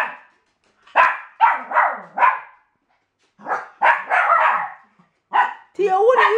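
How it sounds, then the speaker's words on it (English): A dog barks in several short bursts with pauses between, close by and fairly loud, with a higher yelping note toward the end. "what are you barking at?"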